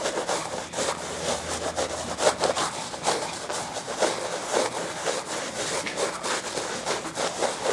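Plaster is worked by hand through a stencil to fill voids, making repeated soft scraping and rubbing strokes, close and continuous, with no speech.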